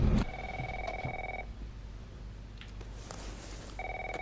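A telephone rings in The Last of Us Part I, two rhythmic electronic ring bursts separated by a pause, clear and fairly loud over a low ambient game background.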